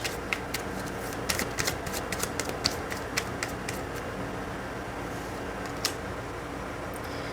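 Tarot cards are shuffled by hand, giving a series of quick, close riffling flicks and taps that cluster early, then thin to an occasional soft snap over a quiet background.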